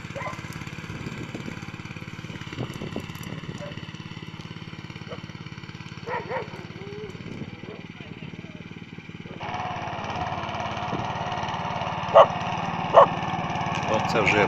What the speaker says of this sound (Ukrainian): Зараз мотоблок їде другою швидкістю.